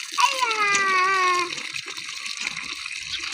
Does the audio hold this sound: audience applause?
no